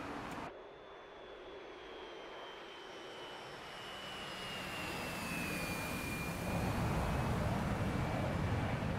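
Su-27 Flanker jet engines in the DCS World flight simulator roar steadily, with a high whine sweeping slightly downward, the rumble building louder toward the end as the aircraft climbs.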